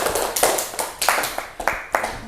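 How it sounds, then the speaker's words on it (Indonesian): Several bursts of classroom applause for a group's answer, with short uneven clapping flurries in quick succession, fairly close and lively. "Oke, aplaus dulu."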